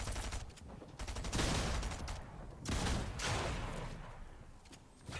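Submachine gun fire sounds in a battle video game. Bursts of rapid, loud shots come in several clusters with short gaps between them.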